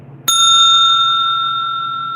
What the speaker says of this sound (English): I hear that Salvation Army bell ringing.